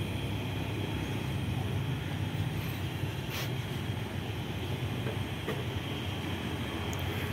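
A steady low rumble of a CC 201 diesel locomotive passing at a distance on an Indonesian railway, continuous and even throughout, with faint metallic clanks now and then.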